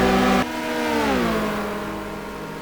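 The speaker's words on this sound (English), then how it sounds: "The Viper motoring away from White." Dodge Viper race car at Spa, engine note rising loud and close as it accelerates, then the pitch bending down as it pulls away after a sharp cut from a preceding sound.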